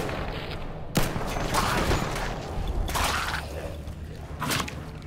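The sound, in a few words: gunfire in Fallout 4 video game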